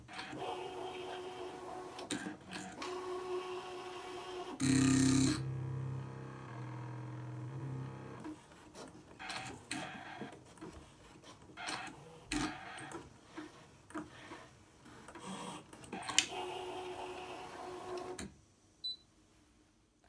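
A Brother ScanNCut DX cutting machine works through thick material, moving in two passes with quiet mechanical whirs, soft motor hums and intermittent clicks and ticks close by, ending in near silence.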